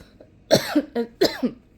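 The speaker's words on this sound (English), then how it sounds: "There's that lingering cough that is just still there" Several sharp, throaty coughs in two quick bursts, close and fairly loud, with brief pauses between them.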